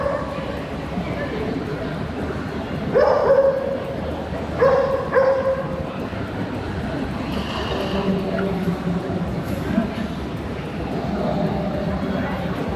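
Dogs at an animal rescue shelter bark and yip in short bursts during a thunderstorm, with whimpering between outbursts against a steady background of noise.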